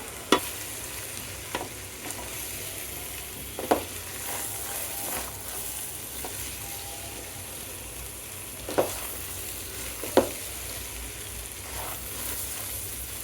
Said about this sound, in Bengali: চাল আর ডালগুলোকে হালকা বেজে নেব